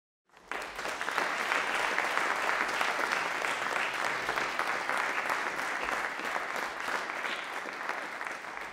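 A university lecture audience at KU applauds steadily to welcome the speaker, a dense, even wash of clapping that rises quickly and holds for several seconds.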